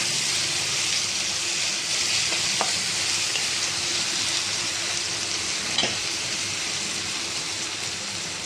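Crushed garlic and ginger sautéing in hot oil for a squid fry, a steady, even sizzle from start to finish with a couple of faint utensil taps.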